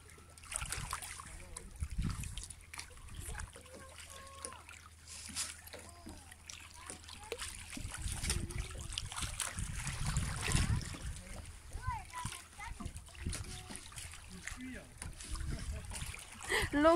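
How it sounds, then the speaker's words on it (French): Water leaks and splashes beside a boat after a sailing outing on an island, with soft trickling and lapping under a low rumble, and people speak in French now and then. "L'eau qui fuit."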